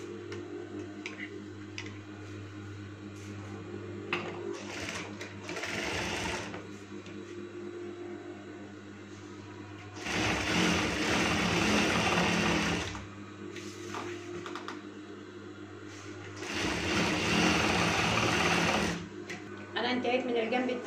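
A sewing machine hems the side of a curtain, running in several loud sustained stretches between quieter pauses with a steady background hum and some ticking, while a person talks at times.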